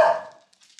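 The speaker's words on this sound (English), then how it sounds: "doing the baby bark lately." A fluffy corgi puppy gives one short, high baby bark up close, fading fast into quiet, with faint soft sounds trailing after.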